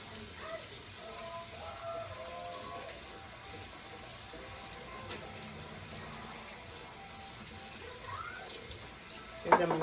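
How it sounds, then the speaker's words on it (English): Tap water runs steadily over chickpeas in a strainer at a kitchen sink, a soft continuous splashing close by that swells briefly near the end. "I'm going to rinse these chickpeas real quick in the strainer."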